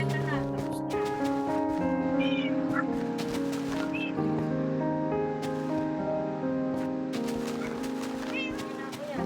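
A Minecraft cat meows after being hit, heard as a few short high mews among bright, layered game music and sound effects, with a voice talking throughout.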